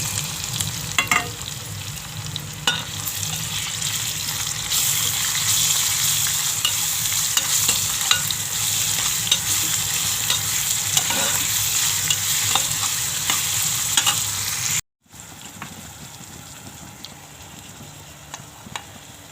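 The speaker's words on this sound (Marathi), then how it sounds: "आलं लसूण पेस्ट, मिरच्या आणि टोमॅटो टाकून घेते." Onion, ginger garlic paste, chillies and tomato frying in a pan, a steady close hiss and sizzle with scraping and clinking from continual stirring, briefly cut and resuming slightly quieter near the end.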